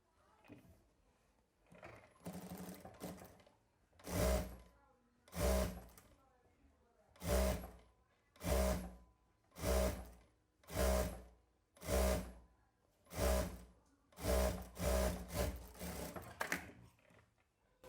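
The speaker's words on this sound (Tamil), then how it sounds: "அதையும் வந்து நம்ம தச்சு எடுத்துக்கலாம்." Stitching a pillow cover on a sewing machine gives a near, loud, rhythmic run of about a dozen short whirring bursts separated by brief pauses.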